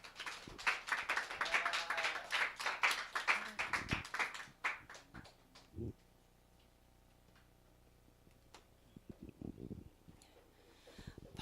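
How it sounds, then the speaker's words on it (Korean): Applause welcoming a pastor to the front at a church service: a burst of many hands clapping for about four seconds, then fading out. A few scattered taps and quiet room noise follow. "우리 큰 박수로 환영하겠습니다"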